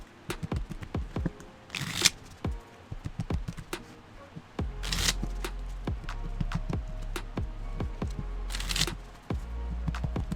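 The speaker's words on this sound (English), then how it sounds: "let's go ahead and shuffle the cards" Real playing cards shuffled by hand at a baccarat practice table, giving repeated riffling bursts and sharp clicks and taps in an irregular rhythm, close and crisp with no talking.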